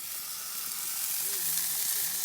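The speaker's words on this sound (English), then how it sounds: "So we're going to fry up some bacon here." Bacon frying in a pan on a patio grill, giving a steady, fairly faint sizzling hiss with a brief low voice murmuring underneath.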